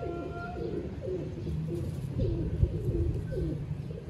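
Low, rolling coos from a group of nearby fancy pigeons in Lahore repeat steadily, with a soft thump partway through.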